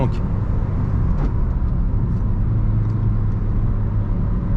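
Interior view of a 2011 Renault Clio 3 RS with a 203 hp 2.0L engine driving, its steady engine drone and road rumble continuous beneath someone talking.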